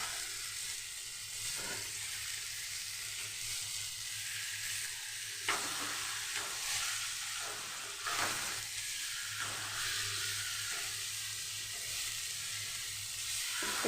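Rohu fish pieces cooking tandoori style in an oven tray, a steady close sizzle and hiss running throughout with a few soft scrapes and bumps as the fish is turned over.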